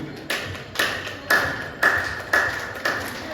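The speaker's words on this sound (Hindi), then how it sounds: "बिल्कुल 90 डिग्री का एंगल रहेगा और ऐसे ताली बजेगी" Evenly spaced single hand claps, about one every half second, ring out crisply with short reverberant tails during a group clapping exercise at a satsang gathering, arms held at a ninety-degree angle; six or seven claps sound alone.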